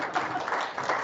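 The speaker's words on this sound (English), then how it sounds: "Thanks for your applause" Audience applause at a public park master plan meeting: a brief, steady burst of many hands clapping together in an indoor room, dense and moderately loud throughout.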